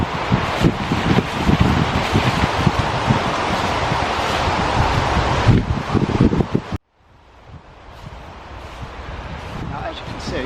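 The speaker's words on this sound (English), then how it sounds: "It's so windy today" Strong gusts of wind buffet the microphone in loud rushing bursts, then cut out abruptly before a softer, rising breeze returns.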